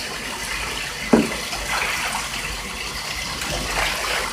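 A bathtub filling with water for a pet goose, a steady rushing stream from the tap with a sharp splash or knock partway through, close and continuous.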